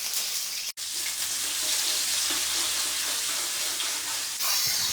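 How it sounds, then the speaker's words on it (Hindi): Garlic and ginger paste with cumin frying in hot ghee in a karahi, a loud continuous sizzle broken by a brief gap, with light stirring and no talk. "1 मिनट हम फ्राई करेंगे।"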